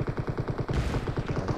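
Rapid automatic gunfire in the video game PUBG, a fast, even burst of repeated shots running the full length, close and fairly loud, with no speech over it.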